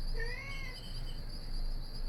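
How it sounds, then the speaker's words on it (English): A pet cat gives a single drawn-out meow near the start, fairly faint against a steady high electronic hum and background noise. "My cat is screaming at me."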